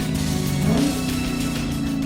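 A Dodge Charger Scat Pack engine revs up briefly with a rising mid-pitched growl, then settles into a steady drone, moderately loud under a constant background hum.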